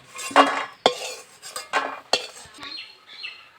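A metal spatula or slotted spoon scrapes and knocks against a pan as fried lentil dumplings (bori) are lifted out, giving a handful of sharp, irregular clinks and scrapes with short quiet gaps between them.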